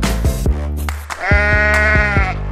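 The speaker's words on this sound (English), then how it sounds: "Sheep." A sheep bleats loudly and close by in two drawn-out, wavering calls separated by a brief pause.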